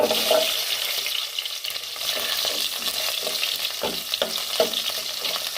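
Asafoetida and small shallots fry in a pot for Kerala-style sambar, making a close, steady sizzle dotted with light clinks and knocks from stirring, with no voices.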